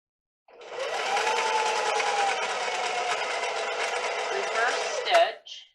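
A sewing machine runs steadily for about five seconds, stitching around a sleeve hole on a garment. It ends with a brief backstitch and a quick rattle, and the sound is close and continuous.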